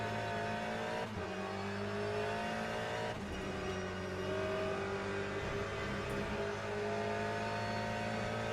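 Ferrari race car in the Le Mans Ultimate sim racing game, a sustained engine drone with shifting pitch as it closes in behind to overtake, steady and moderately loud with no talk.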